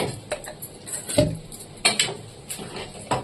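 A spoon clinks and scrapes against a pot of khichuri finished with ghee, making a handful of sharp, irregular metallic taps over a soft background hiss.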